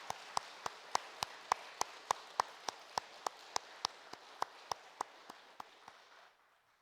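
Church congregation clapping together in a steady, even rhythm of about twenty sharp beats, moderately distant in a reverberant hall, fading out at the end with no talking over it.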